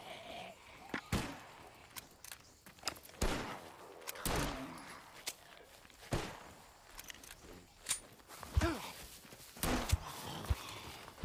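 Gunfire in the zombie survival game SCUM, a series of sharp shots scattered across the clip amid footstep-like thuds and clatter, with a few brief calls.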